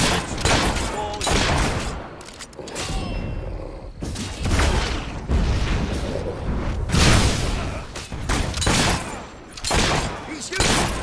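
Gunfire in the video game Fable 3, repeated sharp shots and booming bursts in irregular volleys throughout, loud and close, with scattered voices underneath.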